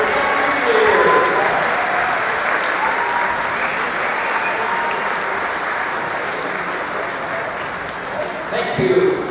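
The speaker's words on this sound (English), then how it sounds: "How about a Lynx round of applause for our senior players," A gym crowd applauds senior players at a Lynx basketball game, with dense, sustained clapping that swells early and then holds steady, filling the hall.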